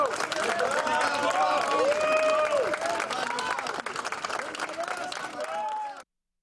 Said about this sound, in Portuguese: o corpo de João Donato foi levado do Teatro Municipal sob aplausos para ser cremado